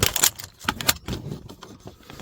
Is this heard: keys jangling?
yes